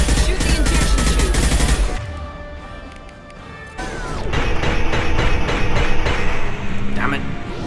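Machine gun fire rattles in Mass Effect 2, dense rapid bursts with crashing impacts, dropping briefly before resuming loud and continuous amid game effects.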